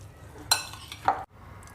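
Garlic paste, crushed green chili and turmeric stirred together for a spicy mutton masala, giving a couple of brief scraping clinks of a spoon against the bowl, close and fairly quiet, with no talking.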